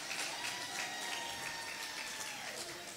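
Audience at a primary school awards ceremony clapping in a steady, dense wash of applause that fills the whole stretch at an even level.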